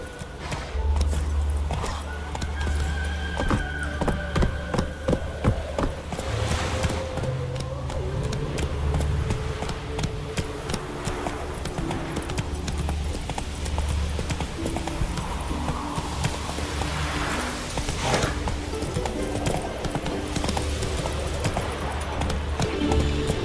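Roach, the horse in the video game Witcher 3: Wild Hunt, gallops with a steady, rapid clip-clop of hoofbeats that continues throughout, close and prominent, with faint voices in the background.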